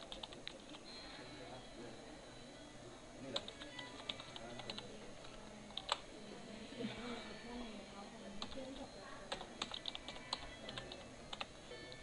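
An email ID is typed on a computer keyboard, giving a long run of soft, irregular key clicks at a low, even level for about twelve seconds, with some faint speech in the background.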